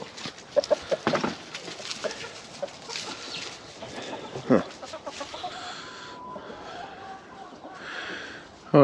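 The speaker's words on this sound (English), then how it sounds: "What's up, chicken?" A broody hen clucks in short, scattered bursts nearby on a farm, with quieter rustling around her and a brief human murmur partway through.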